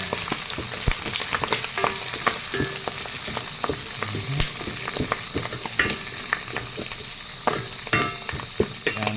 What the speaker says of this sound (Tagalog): Yun, lagay na natin yung malunggay. Ayan na po,